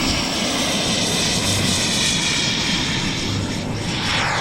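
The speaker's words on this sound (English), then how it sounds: "Literally a jet engine on this RC plane." Jet engine of a giant RC model warbird at a Midwest model airplane event, a loud continuous roar and whine close by, steady throughout.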